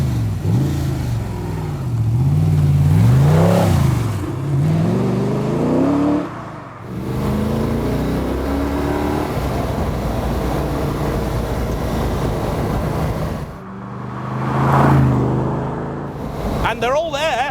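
Gardner Douglas T70 with a 6.2 litre naturally aspirated Chevrolet LS3 small-block V8 carrying a Lingenfelter cam, revved loudly several times. The engine rises and falls in pitch between revs, with a steady idle rumble between them.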